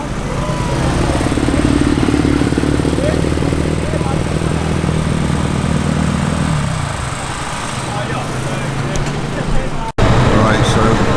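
Honda CBR125R race motorcycles idle and rev near the starting grid at an endurance race, a steady loud engine drone that drops partway through, with people talking amid the pre-race bustle.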